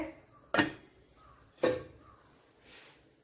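A spoon stirs pumpkin erissery in a pot, giving three separate metallic knocks against the pot, the first two sharp and the last softer, each ringing briefly in a quiet kitchen.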